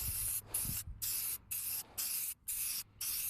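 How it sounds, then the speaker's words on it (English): Spray paint from an aerosol can being sprayed on a car bumper, seven short hissing bursts separated by brief pauses, close and fairly quiet, with a couple of faint low knocks at the start. "Overspray with spray paint is one of the hardest things"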